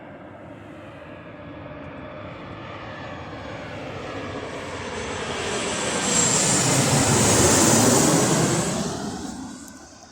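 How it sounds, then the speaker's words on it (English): An Embraer jet airliner passes overhead, a broad roaring engine noise that swells steadily, peaks loud around eight seconds with a whining high edge, then begins to fade, heard alone outdoors. "we've got an Embraer jet airliner, which is strange"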